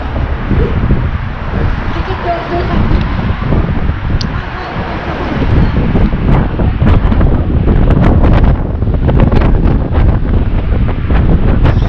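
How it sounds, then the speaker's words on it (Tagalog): Strong wind buffets the microphone in heavy, continuous rumbling gusts that swell louder toward the end, with faint voices buried underneath. "Lakas ng hangin."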